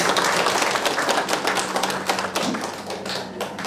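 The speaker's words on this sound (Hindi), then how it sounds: "और आपने भी तालियां।" An audience claps steadily at a burnout workshop for ITBP personnel, right after a patriotic song. The sharp claps are dense and continuous and stay close and loud throughout, with no talking.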